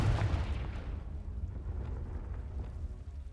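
A Confringo spell blast in the Hogwarts Legacy video game lands as a deep booming explosion that fades into a rumbling tail.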